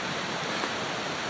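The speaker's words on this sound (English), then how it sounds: "I knew this would be a good time to see this waterfall in full action." A waterfall in full flow after heavy rain rushes as a dense, steady roar of white water, loud and unbroken throughout the short span with no voices.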